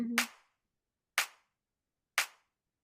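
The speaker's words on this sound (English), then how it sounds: "Now I have clean clap without any atmosphere, any reflections" Three dry, clean hand claps with no room reflections or atmosphere, evenly spaced about a second apart, each a sharp crisp snap that decays quickly into silence, preceded by a brief tonal blip.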